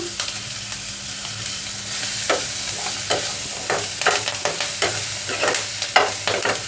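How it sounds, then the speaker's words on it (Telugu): Onion pieces with curry leaves frying in a pan, a steady close sizzle broken by repeated scraping stirs of a spoon against the pan. "రెండు నిమిషాలు ఉల్లిపాయలను వేయించుకుందాము"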